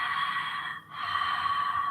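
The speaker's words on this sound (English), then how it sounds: "we'll work with the Ujjayi pranayama, which is a breath with sound in the throat" Ujjayi pranayama breathing, a steady hissing throat-constricted breath drawn in and out through the nose, with a brief pause between breaths, close and alone.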